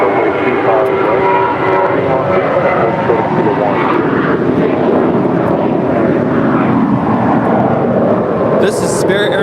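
A five-year-old Spirit Airlines Airbus A321 roars on departure from Los Angeles International Airport toward Las Vegas, a loud, steady jet rumble filling the whole stretch, with a voice heard faintly beneath it.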